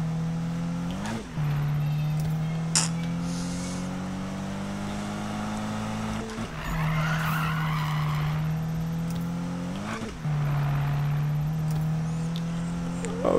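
Car drifting in the 2015 Need for Speed video game: a steady, loud engine drone with sustained tire squeal, broken by three sharp gear-shift dips at regular intervals as the slide continues, with no talking.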